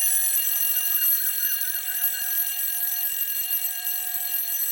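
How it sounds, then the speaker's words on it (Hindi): An alarm clock rings loud and steady, a continuous bright electronic trill filling the room without pause and with no voices. "ये अलार्म अपनी बेटी को उठाने के लिए लगाया है या पूरे मोहल्ले को?"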